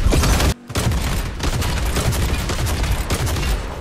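Rapid gunfire in the video game Fortnite, a dense, loud stream of overlapping shots and bursts with a brief gap early on, otherwise continuous.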